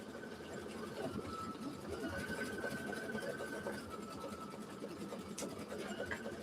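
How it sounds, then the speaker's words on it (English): An embroidery machine stitches out a design in a steady, fast mechanical hum with a fine rapid needle patter, running continuously at moderate volume. "now it's stitching all of that out for me"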